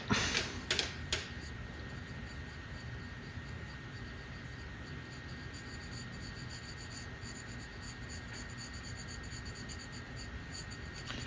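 Pen or pencil scratching across paper while sketching tentacles, a steady soft rubbing texture with a few sharper taps at the start, close and quiet throughout with no talking.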